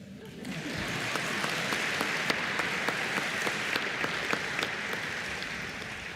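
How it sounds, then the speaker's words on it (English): Sustained audience applause at a May 2025 Finger Lakes Community College commencement, dense steady clapping from a large crowd that swells quickly and holds at an even level throughout. "clap that up."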